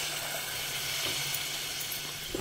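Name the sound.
water added to hot pan of fish curry masala, sizzling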